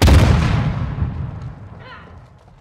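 A heavy cluster-strike blast booms in Call of Duty Modern Warfare 2 during a hardcore Domination match, one loud close burst with a rumbling tail that fades over a couple of seconds.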